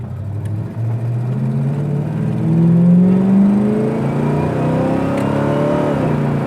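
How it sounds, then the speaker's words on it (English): An Oldsmobile Cutlass 442 engine revving up under acceleration, its loud droning tone climbing in pitch, dropping briefly at a gear change, then rising again, heard close from inside the car. "Nice shift into second, even squeal the tires there a little bit"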